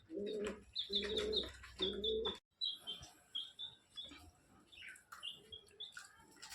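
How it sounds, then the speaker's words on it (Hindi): Pigeons coo in low repeated phrases while higher bird chirps and calls ring out, close and clear around a green parrot bathing, with no voices heard. "अब कबूतर भी आना स्टार्ट हो गए दोस्तों हमारे नीचे।"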